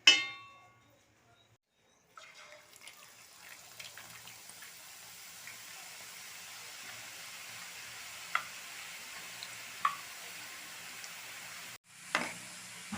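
Boondi drops in hot oil crackle and sizzle quietly in a steady bed of frying hiss, with a few sharp pops and light utensil clinks, faint and close.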